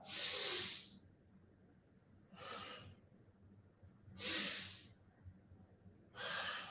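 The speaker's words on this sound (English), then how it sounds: "Just get into that nice steady rhythm. Inhaling, exhaling, inhaling, and exhaling." Steady yoga breathing, slow deep inhales and exhales repeated in an even rhythm, four long airy breaths close to the microphone with quiet pauses between them.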